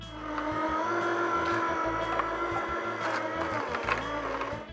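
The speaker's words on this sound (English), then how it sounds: "The auger will pull the food and start juicing immediately." A Ronco Smart Juicer's auger grinds fruits and vegetables with a steady, close mechanical whir and buzz, broken by uneven rhythmic knocks and crunches as the food is pulled through.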